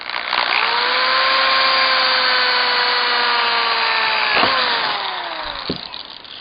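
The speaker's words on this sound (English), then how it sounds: "Now I'm going to drill through the steel." A power drill whines steadily and loudly for several seconds, its pitch sagging slightly as it bites through steel in a vinyl deck rail, then winding down with a couple of clunks.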